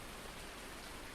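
Continuous rain hiss from the Farming Simulator 19 weather, a soft uniform wash of falling drops with no voices.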